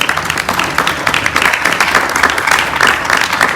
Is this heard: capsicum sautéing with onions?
no